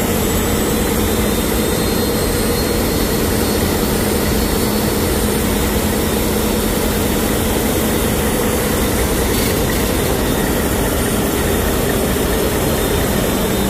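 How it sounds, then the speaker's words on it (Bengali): A passenger launch's engine runs steadily with its propeller shaft turning, giving a loud, continuous mechanical roar and drone with no pauses or voices. "আপনারা দেখতে পাচ্ছেন প্রোপেলার শ্যাফট ঘুরতেছে।"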